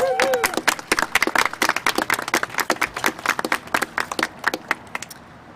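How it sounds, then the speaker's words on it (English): A small audience at a bill signing claps for an introduced speaker, distinct individual hand claps close by, loud at first and thinning out toward the end, with a brief voice at the start. "Give her a big round of applause"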